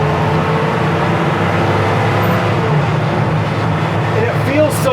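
A 1968 Ford Bronco, a short-wheelbase classic, accelerating through the gears at highway speed: loud, steady engine and road rumble throughout, with a voice talking over it.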